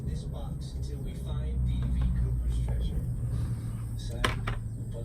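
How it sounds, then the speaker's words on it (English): A low, deep rumble of thunder from a bad storm outside swells and fades in the background, muffled indoors, while someone talks over it. "I don't know if you guys could hear that, but there's a really bad storm right now."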